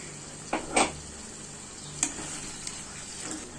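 Tomato paste goes into a pan of frying chicken curry with a steady sizzle, a few sharp spoon scrapes and stirring knocks against the pan, close and continuous.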